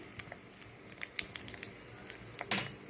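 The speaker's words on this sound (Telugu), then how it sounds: "ఆవాలు, జీలకర్ర, ఎండుమిరపకాయలు వేసేసాను. అది కొంచెం వేగుతున్నాయి." Mustard seeds, cumin and dried chillies sizzle in hot tempering oil for sambar, a quiet close crackle with scattered pops and one sharper burst near the end.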